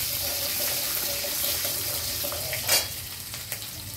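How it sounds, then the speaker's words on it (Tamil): Garlic and ginger sautéing in oil with green chillies for a carrot and brinjal vegetable chutney make a steady, close sizzle with a brief clatter near the end and no speech. "பூண்டும் இஞ்சியும் போட்டுருவேன். இது கொஞ்சம் நல்லா வதங்கட்டும்."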